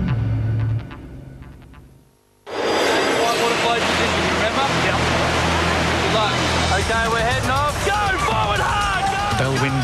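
Whitewater rapids on a rising river in the rain churn around rubber rafts, a loud, continuous rushing roar that starts abruptly after a brief quieter moment, with voices shouting over the water.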